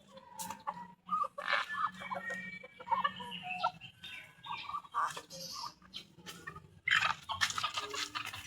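Native bantam chickens cluck and chatter close by in a backyard, with short irregular bursts of calls and some quieter stretches between them.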